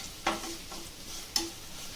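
Bitter gourd stirred while frying crisp in a pan, with two distinct scrapes of a spoon against the pan over a soft steady sizzle, alone and fairly quiet.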